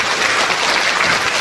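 Audience applause at a book launch event, dense steady clapping from a crowd, loud and close throughout.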